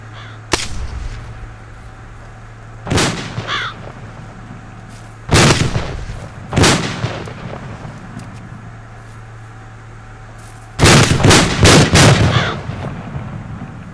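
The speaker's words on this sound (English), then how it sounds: "I throw a grenade." Trench battle in a Finnish war video game, with a grenade and gunfire: several sharp, booming blasts land a few seconds apart, with a dense burst of explosions near the end and a low, steady hum underneath.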